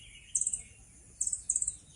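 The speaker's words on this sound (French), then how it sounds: "Il y a des oiseaux." Birds sing outdoors in the morning, with short bright trills of rapid repeated chirps, one burst early and two more close together near the end, faint and somewhat distant over a quiet low background.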